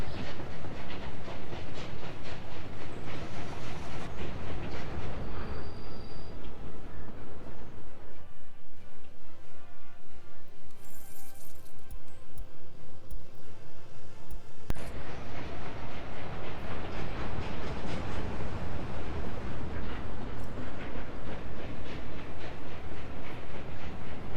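A train in Workers and Resources rolls along the rails with a loud, continuous rumble and a steady rhythmic clatter of wheels over track joints, briefly thinning to a lighter whir midway before the full roar returns.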